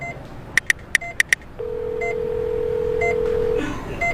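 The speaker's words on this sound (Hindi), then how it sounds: "मैंने कॉल काटा और श्रेया को फोन लगाया।" A quick run of five or six keypad dialing beeps, then a long steady tone, followed by a few faint electronic blips.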